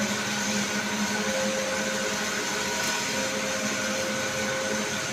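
A 75 kW industrial electric motor controlled by a soft starter runs in a motor control room, giving a steady, fairly loud drone with constant tonal hum that holds unchanged throughout, with no voices over it.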